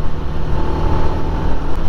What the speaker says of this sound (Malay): Oh, lori tu laju bai.